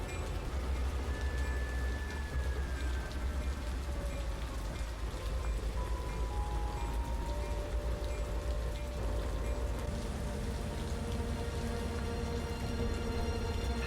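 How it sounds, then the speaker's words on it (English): Steady rain hisses throughout at low volume, with faint engine-like hums and tonal whistles drifting underneath. "I hate this rain."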